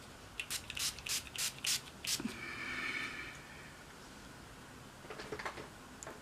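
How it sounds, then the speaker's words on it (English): Tarte Rainforest of the Sea Marine Boosting face mist sprays in about five quick, close pumps, each a short breathy hiss, followed by softer rubbing and a few faint later spritzes. "Just using the Tarte Rainforest C Marine Boosting 4-in-1 Mist."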